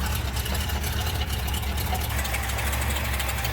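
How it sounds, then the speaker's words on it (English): A 1978 Ford F150 idling with a leaking exhaust, giving a steady, loud low rumble with a raspy, chuffing edge that holds continuously and unchanged throughout. "Engine sounds pretty good. I don't hear any knocking or clattering."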